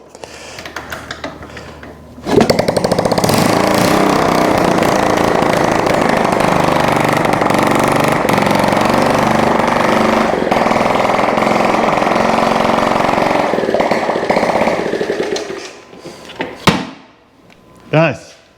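A Honda ST70 motorcycle kickstarts and settles into a loud, steady small-engine running note close by for about thirteen seconds before cutting off, followed by a few knocks.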